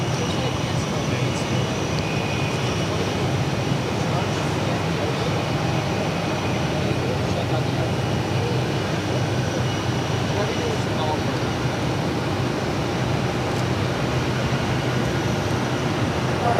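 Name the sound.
Lufthansa Airbus A340-600 taking off on runway 22 left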